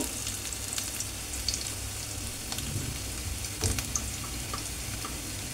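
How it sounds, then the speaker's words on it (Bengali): Chopped onion and ginger fry in a hot pan, a close, steady sizzle with faint crackles and a few scraping stirs, alone without talk. "আঁচটা একটু বাড়িয়ে নিয়ে পেঁয়াজ আদা কুচিটাকে ভাজা ভাজা করে নিয়ে"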